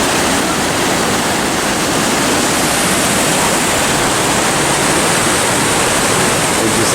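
A waterfall in El Dorado National Forest, California, pours with a constant, dense, loud rush of falling water that stays unchanged throughout.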